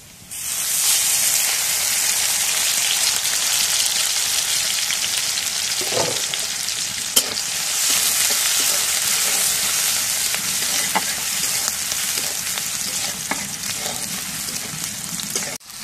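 Hot cooking oil sizzles loudly and steadily in a pan while a broiler chicken bhuna is being made, with a few scattered stirring clicks. The hiss stays close and fills the kitchen without a break.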